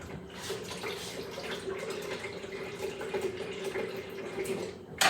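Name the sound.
water poured into a blender for a protein shake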